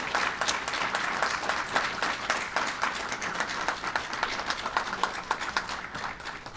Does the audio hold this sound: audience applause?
yes